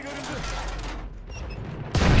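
A tank cannon in the Battlefield video game goes off with a single heavy, booming blast near the end, following a stretch of rumbling engine and battlefield noise.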